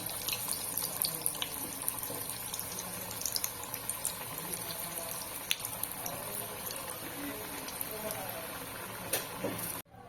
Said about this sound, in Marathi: आता हे दुसऱ्या सुद्धा मी तळून घेते